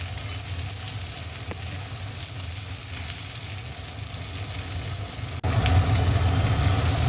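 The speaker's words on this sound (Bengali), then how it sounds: "খুব ভালো করে ভেজে নেব তার মধ্যে আমি পাঁচ ছটা কাঁচা লঙ্কা দিয়ে দিলাম" Green chilies fry in a pan of oil for a moong dal with winter vegetables, giving a steady, moderate sizzle throughout and a sudden louder crackle near the end as something is added or stirred.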